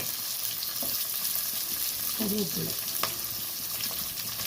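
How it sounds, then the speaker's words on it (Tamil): Green chili, garlic and tamarind sauté in a pan for pirandai chutney, a steady soft sizzle with a few scraping stirs, moderately close and fairly quiet, no voices. "எல்லாமே நல்லா வதக்கணும். நல்லா வதக்கி விடுங்க."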